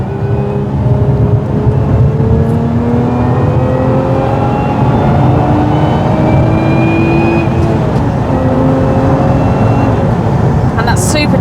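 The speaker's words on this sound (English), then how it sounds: "Oh, I love the supercharger whine." A Lotus Emira V6 First Edition under way, its supercharger whine rising in steady gliding tones over a constant loud engine and road roar, with a voice talking along.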